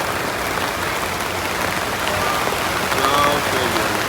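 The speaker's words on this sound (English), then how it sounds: "it is dumping right now." Heavy rain pours down at an outdoor Supercross race in Salt Lake City, a dense, constant hiss of drops filling the whole stretch, loud and steady with faint crowd noise underneath.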